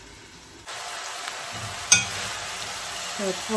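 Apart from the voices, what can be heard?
stirring Korean garlic chives with meat in a pan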